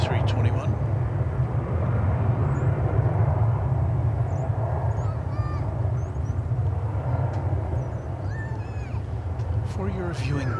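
An American Airlines Airbus A321 airliner takes off at DFW Airport, its steady engine roar loud and constant throughout with a strong low rumble, while faint bird chirps and a voice come through in the background.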